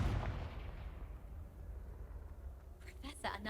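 A Confringo fire spell from Hogwarts Legacy bursts with a booming explosion at the start that fades into a rumbling tail, then quieter game sounds and a voice follow near the end.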